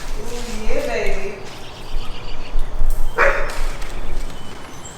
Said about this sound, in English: We got dogs barking in my shop